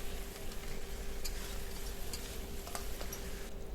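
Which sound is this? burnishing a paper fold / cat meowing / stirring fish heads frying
stirring fish heads frying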